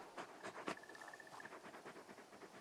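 Torgal, a large dog companion in the video game Final Fantasy XVI, pants in quick soft rhythmic breaths, faint and close, with a brief tonal chime partway through.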